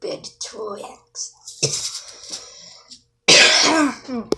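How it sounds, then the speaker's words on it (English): A person coughs and clears their throat in the morning, several rough, close bursts with short pauses, ending in a harsh, louder hack. "I always cough in the morning"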